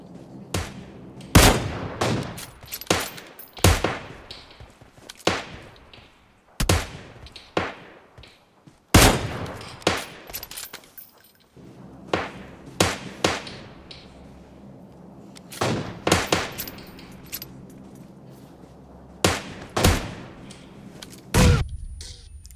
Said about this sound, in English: He threw a grenade? God dang, that blew up.